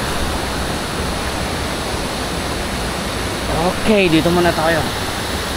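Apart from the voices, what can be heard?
waterfall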